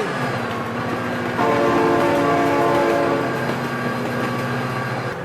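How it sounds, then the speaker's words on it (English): A loud, sustained train horn blares over the rumble and clatter of a passing train in the driving game BeamNG, the horn swelling partway through and the rolling noise continuing steadily without talk. "train!"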